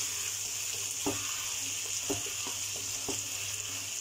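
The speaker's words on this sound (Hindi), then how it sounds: "और इस भिंडी को अच्छी तरह से भून लेना है।" Okra stir-frying in a pan with soy sauce mixed in, a steady close sizzle broken by a few soft stirring scrapes, with no talking.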